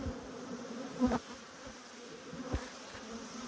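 A steady, low insect hum of honey bees buzzing close by, with a couple of louder passes as individual bees fly near.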